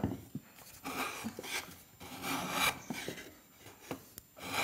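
A hand shoulder plane shaves wood in a series of close rasping strokes, each a soft scraping swish with small clicks between them, moderately quiet with no talk.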